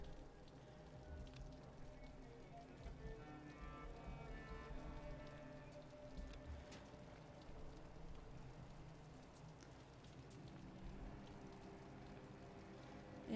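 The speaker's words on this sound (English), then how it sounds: "so now all I can hear is the rain" Steady rain in the video game Vampyr, a continuous close patter of drops on surfaces, with faint scattered clinks and other background sounds beneath it.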